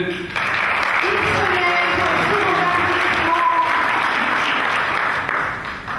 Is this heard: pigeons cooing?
no